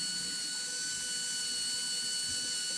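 A brushed RC electric motor spins freely at roughly 29,000 RPM during commutator truing, giving a steady, piercing high-pitched whine with no change in pitch and no voices.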